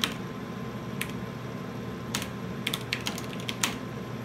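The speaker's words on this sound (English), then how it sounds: "And I'll type a workspace of K so we get an error there as well." Keys clacking on a computer terminal keyboard connected to an early Altair 8800 system, a handful of irregular sharp keystrokes over a steady electrical hum, close with no talk.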